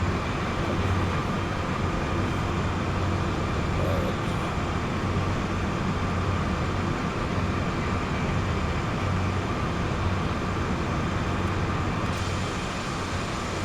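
Long freight train in Train Sim World 2020 rolling steadily, a dense continuous rumble with a low engine drone, loud and close throughout with no talk.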